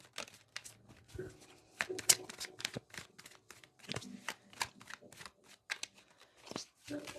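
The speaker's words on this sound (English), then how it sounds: "I'm shuffling the cards wrong." Tarot cards are shuffled in a soft, rapid flurry of papery riffles and flicks, close and quiet, with a voice murmuring faintly underneath.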